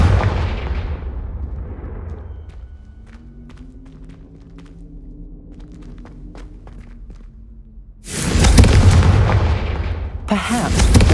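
Confringo blasting spells exploding in the Hogwarts Legacy video game: a loud, harsh burst at the start, a quieter stretch with soft musical tones, then two more heavy, roaring blasts close together near the end.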